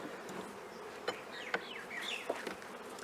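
Bees buzz around an open beehive in Fiji during honey removal, several close insects whining past in quick overlapping passes over a faint background.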